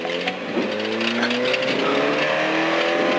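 A rally car tears along a special stage at the 2011 Vättern Rally, its engine snarling loud and near with rising and falling revs and occasional tyre squeal over gravel.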